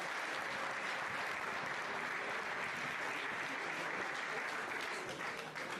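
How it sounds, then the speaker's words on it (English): Sustained audience applause for a performer at a tourism and investment expo, a dense, steady wash of many hands clapping at an even level throughout. "another round of applause"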